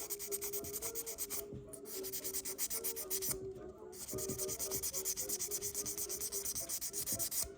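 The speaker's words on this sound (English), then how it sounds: "we'll try to do a nice even buffing of it" Amber jewelry being buffed by hand with a cloth, a steady close-up rubbing that sweeps back and forth in even strokes, with two short pauses, no voices.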